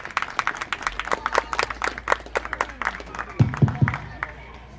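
Audience at a Mason County livestock show claps for young exhibitors, a scattered round of hand claps at moderate distance with a few louder nearby claps near the end.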